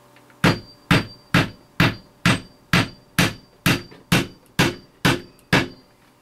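Warped pallet wood paneling is hammered with twelve evenly spaced, sharp ringing blows, about two per second, close and loud with nothing else heard.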